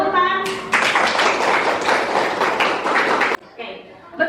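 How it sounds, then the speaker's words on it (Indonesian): Brief hand clapping from a small group in a classroom, a short dense burst of claps that cuts off abruptly, followed by a voice speaking. "Tepuk tangan."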